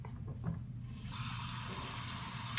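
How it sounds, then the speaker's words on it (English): Water rushes into an LG washing machine's detergent dispenser drawer, a steady broadband pour that starts after about a second of near quiet and runs evenly to the end, with no talking. "As you add water, then it starts siphoning it,"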